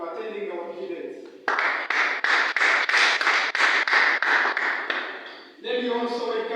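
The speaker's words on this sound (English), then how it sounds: "welcome in proposal sides and welcome and clap for them for attending our debate" Audience at a school debate clapping to welcome the proposition team, a steady burst of rhythmic applause lasting about four seconds, with a voice speaking before and after it.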